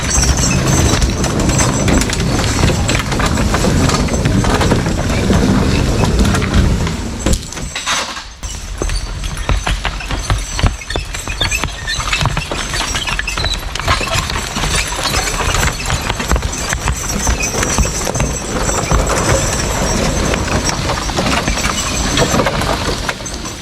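Draft horses walking while hauling logs cut for firewood, hooves clopping steadily with jingling harness and broadband outdoor rustle throughout, a short dip near the middle before the plodding continues.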